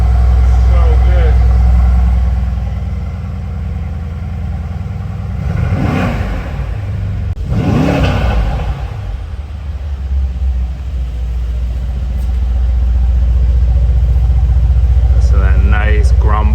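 A 2023 Porsche 911 Carrera GTS Cabriolet idles with a deep, loud rumble, then rises in two quick rev blips before settling back, while a person talks nearby.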